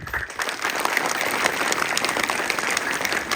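Children in a school audience clap steadily and loudly throughout, a dense, sustained wash of applause with no break.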